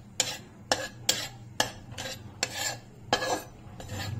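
A spoon scrapes and stirs gram flour (besan) as it roasts in a kadhai, with about nine distinct scraping strokes at an even, unhurried rhythm, close and fairly quiet.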